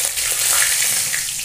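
Cumin, radhuni and bay leaf tempering sizzle in hot oil for a fish and pumpkin curry, a steady, close, bright frying hiss with no pauses and no talk.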